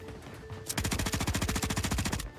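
Rapid automatic gunfire in the video game Call of Duty Warzone on Rebirth Island, a fast, steady burst of about twenty close, loud shots lasting under two seconds after a brief quiet lead-in.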